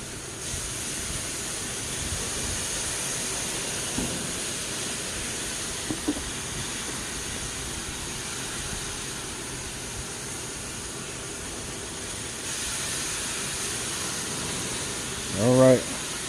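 Skirt steak cooking on an open grill, a steady low hiss and sizzle running throughout with a few faint clicks and a brief louder clatter near the end.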